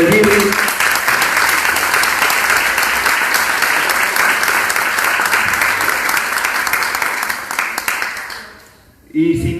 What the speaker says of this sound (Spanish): planteo un aplauso para los compañeros del Birri